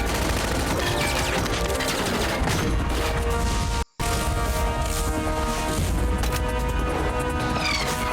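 Dense, rapid gunfire from the video game Metal Gear Solid: sustained automatic bursts and crashing impacts fill the scene loudly, broken by one brief silent gap midway, with no talk.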